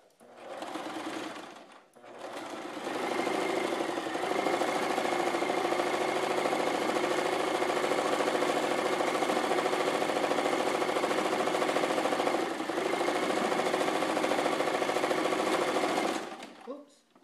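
A sewing machine stitches a child's bucket hat: a short burst of rapid mechanical whirring, a brief pause, then a long, steady, close run of fast needle chatter that stops abruptly at the end, with no one talking.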